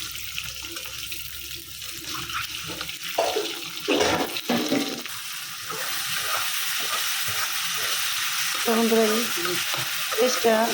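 Masala being stir-fried in a pan for an egg dish, a steady sizzle and frying hiss with scraping stir strokes, fairly close and continuous, with no one speaking.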